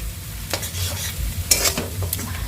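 Food frying in a pan and being stirred, with a close, steady sizzle broken by a few sharp scraping strokes, no talking.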